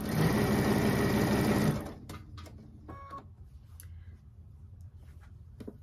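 A sewing machine stitches quilt binding diagonally, a steady loud whirring run of needle strokes for almost two seconds, then it stops, leaving light handling clicks and a faint rustle of fabric.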